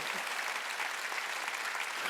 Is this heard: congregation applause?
yes